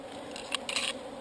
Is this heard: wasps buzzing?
yes